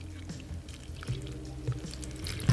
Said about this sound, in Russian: И также проливаю кору.